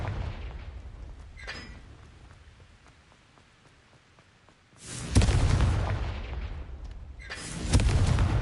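A Confringo fire spell bursts in Hogwarts Legacy: a rain-like hiss and low rumble give way to a loud, sudden blast that roars briefly, then a second heavy burst follows a couple of seconds later.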